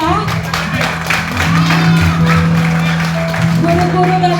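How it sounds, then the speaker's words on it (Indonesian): An audience applauds teachers and therapists at a tenth-anniversary event, with steady clapping and crowd noise running throughout under a loud voice and some tonal sound. "Coba tepuk tangan buat mereka."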